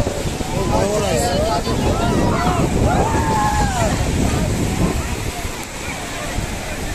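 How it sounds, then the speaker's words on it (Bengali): Big waves breaking at New Digha beach, a steady loud roar of surf under gusting wind noise, with people's voices and calls from bathers in the background. "দেখতে পাচ্ছ সমুদ্রে ঢেউ আসছে কি বড় বড়"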